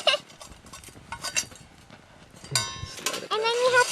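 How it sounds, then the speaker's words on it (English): Metallic clinks and scrapes as the ash pan of a Firebox stove is handled and emptied, irregular clanks and rattles, with voices talking at moments. "I just wanted to empty this ash pan"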